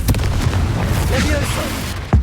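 A Confringo blasting spell going off in Hogwarts Legacy, a deep booming explosion that rumbles continuously, ending in a sharp burst, with spell voices around it.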